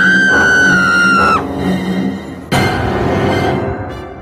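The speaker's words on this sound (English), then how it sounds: "how dare you scream very loud in the cinema" A child's loud, high-pitched scream holds for over a second, then breaks off; after a pause, a second loud shriek bursts out and trails away.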